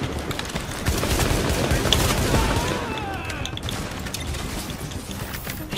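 Rapid automatic gunfire from the shooter game The Division, with sustained bursts and scattered shots echoing against a rooftop firefight backdrop, a voice talking faintly underneath.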